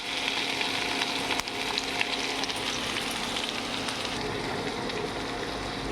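Bori, small lentil dumplings, fry in oil in a pan with a steady, close sizzle and crackle that holds evenly throughout, with no voices.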